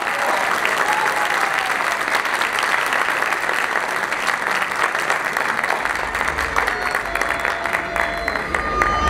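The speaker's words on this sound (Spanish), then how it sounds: "Un fuerte aplauso." A loud, sustained round of audience applause for dancers performing rural polka, chotis and galopa from Misiones, Argentina, dense steady clapping with faint cheering, lasting several seconds.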